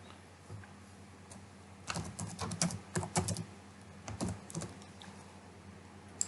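Fast bursts of clicky computer keyboard typing as a script is written, a close, steady patter of keystrokes in clusters with short pauses, over a faint room hiss.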